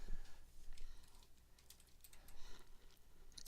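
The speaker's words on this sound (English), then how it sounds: "So now you want to type what you're looking for." Typing on a computer keyboard while entering an eBay search, a steady patter of quiet close key clicks with irregular rhythm and no talking.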